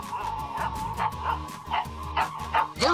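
Several dogs bark and yip in quick bursts through a cartoon dog phone, loud and close, with sharp repeated barks spread across the moment.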